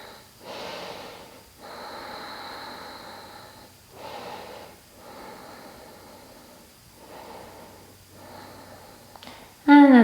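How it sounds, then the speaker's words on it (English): Deep yoga breathing, slow audible inhales and exhales repeating in a steady rhythm of breathy hisses separated by short pauses, close and clear, ending in a sudden louder noise. "Breathe deeply."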